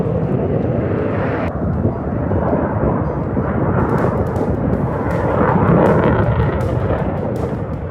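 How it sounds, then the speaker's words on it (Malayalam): Fighter jet flying practice near an air force base at Mohanbari, a steady broadband roar rumbling continuously for several seconds, loud and distant-sounding, swelling slightly toward the end. "അവിടെ ഒരു ഫൈറ്റർ ജെറ്റ് പ്രാക്ടീസ് ചെയ്യണം നോക്കിയേ"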